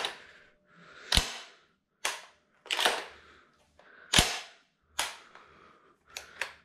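The action of a cleaned and oiled semi-automatic shotgun is worked by hand, giving about seven sharp metallic clacks and slides in an irregular rhythm, close and distinct in a quiet room.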